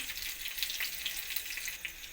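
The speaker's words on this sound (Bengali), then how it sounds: "ফোড়নটা আমার ভাজা ভাজা হয়ে গেছে" Steady, close-up sizzling and crackling of nigella seeds and slit green chillies frying in hot oil, a dense continuous hiss with tiny pops, no voices.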